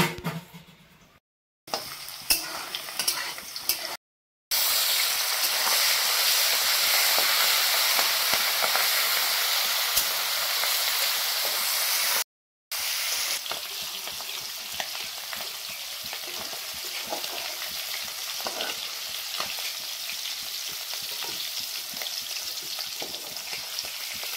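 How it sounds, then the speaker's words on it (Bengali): Jackfruit pieces frying in a hot pan, a loud continuous sizzle and hiss after a few short clattering bursts, near and steady with no talking. "এখানে কাঁঠালগুলো ঢেলে দিল।"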